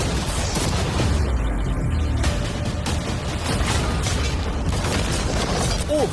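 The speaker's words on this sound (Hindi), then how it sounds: "ठीक है शॉन, अब हम तुम्हारी नई यॉट पर कैनन्स को शूट करने वाले हैं।" Cannons fire at a new yacht, their rounds smashing through storage containers on board, producing a dense, continuous barrage of loud booms and shattering crashes that fills the whole stretch with little pause.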